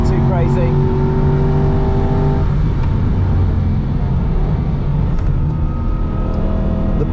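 Aston Martin V8 Vantage engine revving hard on an onboard lap of the Nürburgring, a loud sustained drone rising through the gears with a sudden drop at a shift, steady and close throughout.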